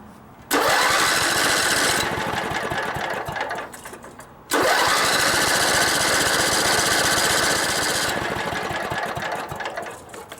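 A Pow'r Gard 5000 watt generator engine fires up and runs in two loud, close bursts, each roaring for a few seconds before faltering and dying back down.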